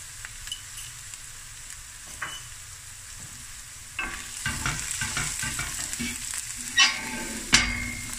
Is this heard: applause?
no